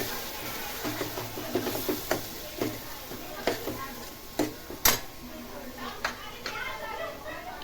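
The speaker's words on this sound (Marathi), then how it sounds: "आता आपण जो मसाला तयार केला आहे खोबरं तो आपल्याला ह्या तेलावर छान परतून घ्यायचा आहे" Grated coconut masala is sautéed in oil in a pan, with a series of close scraping, clinking stirring strokes over a faint sizzle.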